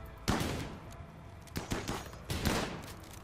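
RimWorld gunfire pops in sharp bursts of several quick shots, one volley near the start and two more clusters later, loud and close against a quiet background.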